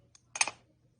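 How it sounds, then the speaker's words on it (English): A craft blade slices through polymer clay in one short, crisp cutting sound with a faint tick just before it, close up in a quiet room. "I'm going to trim it with my blade"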